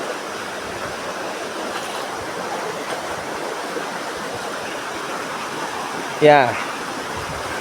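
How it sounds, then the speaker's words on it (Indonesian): A river rushes through a very narrow gap between two cliffs, a steady loud roar of flowing water running throughout, with a brief spoken word near the end. "Jadinya sungainya itu melewati celah tebing, 2 tebing ya, yang sempit sekali."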